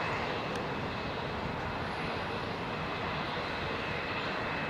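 Aircraft departing London Heathrow Airport, a steady broadband engine roar with a constant hiss, moderately loud and unbroken, heard alone without talk.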